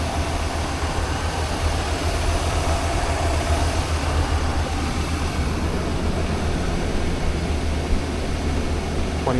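A 2025 2500HD pickup's gasoline engine idles steadily at close range, a continuous low rumble with an even hum and no talk over it.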